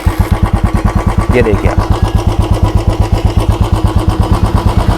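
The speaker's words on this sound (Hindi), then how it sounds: "अब किक मार के इसको स्टार्ट करते हैं।" A Royal Enfield Bullet 350 motorcycle is kick-started and settles into a loud, steady thumping single-cylinder idle with an even pulsing rhythm close by, while someone speaks briefly over it.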